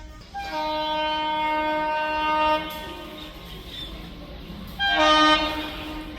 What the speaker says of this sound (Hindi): और यहीं पर एक और ट्रेन स्किप मारने आ रही है धौलपुर को।